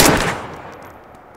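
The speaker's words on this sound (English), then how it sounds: "firing over here" A single close, loud gunshot in the survival game DayZ, its sharp crack trailing off into a fading echo with no talk.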